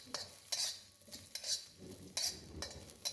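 Chopped garlic, ginger and peanuts frying in sesame oil in a pan, a quiet sizzle broken by repeated clanks and scrapes of a utensil stirring, close and without talk.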